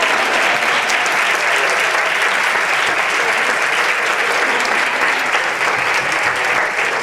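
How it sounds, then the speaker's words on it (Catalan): A church congregation at a Eucharist celebration applauds Father Coll, sustained and loud, with dense clapping filling the space and faint voices underneath. "Un fort aplaudiment pel Pare Coll."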